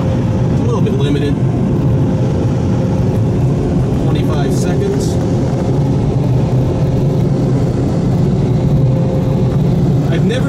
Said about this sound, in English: You can see we have 35 seconds of dryer time remaining.